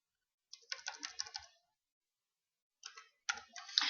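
Fingers type on a computer keyboard into a database query window. Two separate bursts of quick, close key clicks are heard, with a quiet pause between them and no talking.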